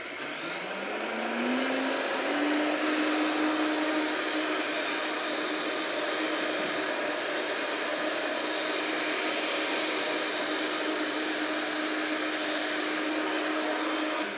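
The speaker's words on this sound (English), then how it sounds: "Fire it up and then turn it up." A stick blender whirs through warm pumpkin soup in a TV kitchen, its motor rising in pitch as it speeds up, then holding a loud, steady, close drone for the rest of the clip.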